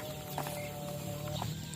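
Joper chickens cluck softly inside a coop at feeding time, a few scattered calls over a steady low hum of the shed.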